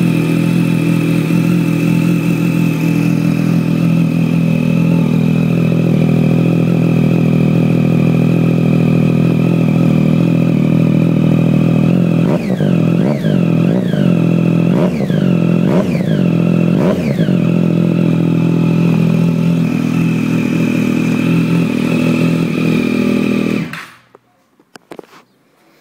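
Motorcycle fitted with an SC Project exhaust idling in a garage, a loud, steady rumble with a burst of sharp throttle blips midway before the engine is shut off and falls silent.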